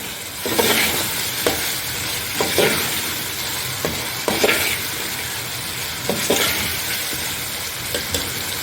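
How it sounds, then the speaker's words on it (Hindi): Potatoes fry in masala in a pan and get stirred, a loud close sizzle with repeated scraping strokes every second or so and no speech. "5 से 6 मिनट आलूओं को भून के ना"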